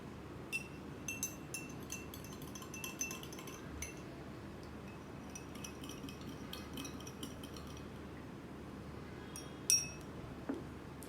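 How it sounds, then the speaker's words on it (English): A metal spoon stirs salt water in a glass, giving scattered light clinks and taps against the glass over steady background hiss, with one sharper clink near the end. "Now I will stir it properly using a spoon."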